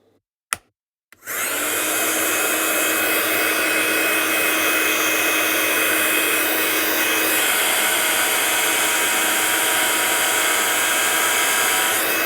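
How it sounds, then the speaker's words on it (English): After a brief click, a heat gun starts up and blows a loud, steady, whooshing roar for about eleven seconds to dry stamped ink on a card, close by and unbroken, with no talking. "So let's just dry this one with our gun again."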